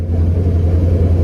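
A Mustang engine holds near 1800 RPM in second gear, surging and bucking back and forth in a steady, loud, low rumble.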